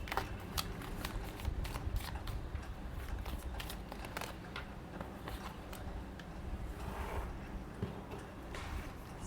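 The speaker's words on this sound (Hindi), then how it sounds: "पहले हम कार्ड्स निकालते हैं।" Tarot cards being shuffled and drawn, a continuous close run of soft riffling flicks and slides with frequent sharp card snaps, no talking.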